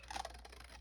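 Scissors snipping through an altered paper bag in a papercraft session, a brief cluster of crisp cuts at the start that fades into soft rustling, close and fairly quiet.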